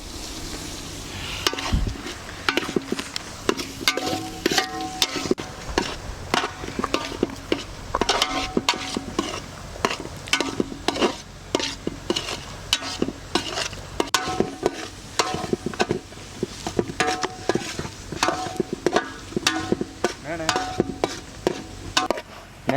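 Chicken kulambu stirred in a pan, a long run of rhythmic scraping strokes of a spoon against metal over a low simmering sizzle, close and steady throughout.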